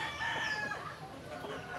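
Backyard chickens raised on cracked corn grits cluck steadily while a rooster lets out a drawn-out crow near the start, all fairly close and with no one talking.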